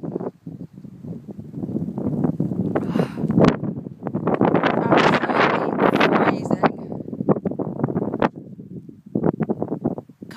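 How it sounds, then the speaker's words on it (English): A horrendous November wind storm in Iceland buffets the microphone in heavy, roaring gusts that surge and drop, rumbling loudly for most of the stretch with brief lulls between blasts. "Wind is still horrendous."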